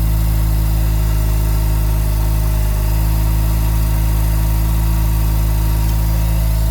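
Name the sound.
Mazda RX-7 Turbo II engine idling after cold start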